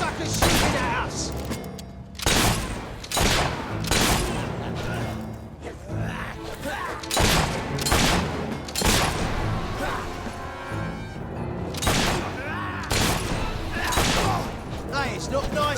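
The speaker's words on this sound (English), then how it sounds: "Suckers shooting at us!" Sharp gunshots ring out repeatedly in a Fable 3 fight, loud cracks spaced irregularly amid booming hits and character voices talking over the action.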